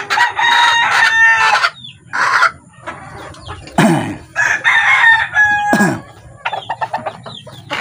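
Pure labuyo junglefowl roosters crow in short, shrill calls close by, mixed with clucking and a few sharp wingbeat-like bursts, all without voices.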